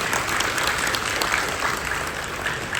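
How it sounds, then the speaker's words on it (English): An audience at a Dell Malaysia anniversary celebration breaks into dense, even applause, a steady wash of many hands clapping with no talking over it. "give yourself a round of applause"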